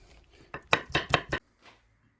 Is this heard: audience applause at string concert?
no